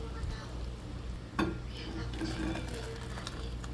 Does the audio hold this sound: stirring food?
yes